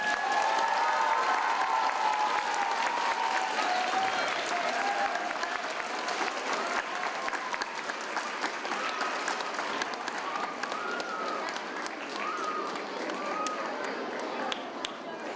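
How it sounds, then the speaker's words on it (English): School audience at an elementary school Lunar New Year celebration gives a long round of applause, dense clapping throughout with some cheering and faint talk mixed in. "Can we have a big round of applause?"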